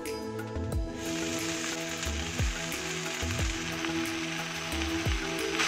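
Chopped water spinach (kolmi shak) drops into potatoes frying in oil over a medium flame, giving a steady, close sizzle and crackle with occasional clinks of a utensil against the pan.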